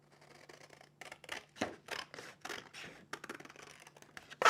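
Scissors in need of cleaning and sharpening snip paper for a Christmas scrapbooking layout, a quiet, irregular run of short crisp cuts and scratchy rustles heard close up and alone.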